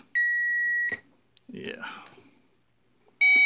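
A Power Probe III automotive circuit tester gives two loud, steady electronic beeps, one long tone near the start and another at the end, with a short spoken word in the quiet gap between them.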